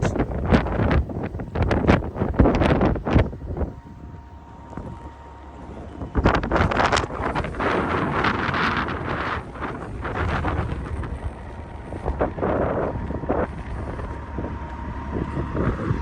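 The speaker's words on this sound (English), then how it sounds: "Pardon the wind. It's blowing like a sumbitch." Strong gusty wind buffeting the microphone at a truck stop during 70+ mph winds, loud roaring rushes rising and falling for the whole stretch.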